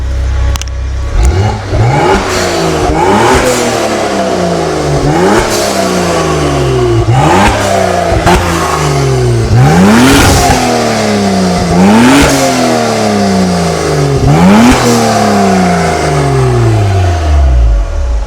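A Citroën AX fitted with a Volvo 2.9 twin-turbo engine revs repeatedly on a road test, pitch climbing and falling in strong acceleration sweeps, loud and close, with steady road noise beneath.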